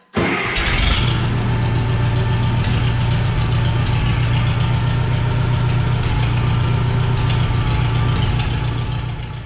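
A Case 430 tractor engine fires almost instantly and keeps running at a steady, loud, throbbing idle close by, a low chugging drone that holds evenly for several seconds without any talking.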